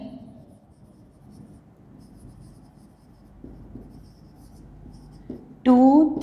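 A maths teacher writes on a board during a lesson, giving soft, faint scratching strokes, and a voice starts speaking near the end.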